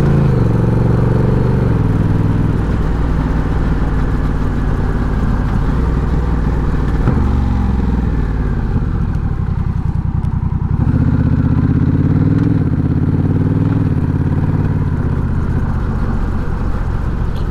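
Honda Rebel 1100 motorcycle fitted with a Coffman's Shorty exhaust, loud and close, its engine note rising and falling through several gear changes and revs with a steady rumbling drone throughout.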